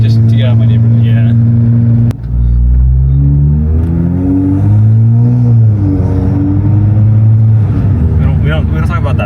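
BMW engine with an SSR downpipe revving loudly and continuously, pitch rising and falling through several sustained pulls, with people talking over it.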